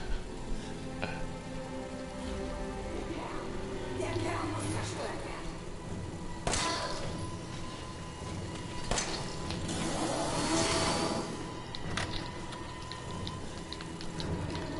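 A car engine revs up inside a shooter video game, mixed with other game effects and heard under continuous talking.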